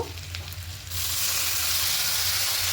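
A little water hits a hot pan of cumin powder, turmeric powder and salt for a Bengali tilapia curry with papaya and potato. A soft sizzle jumps into a loud, steady hiss that fills the rest of the clip.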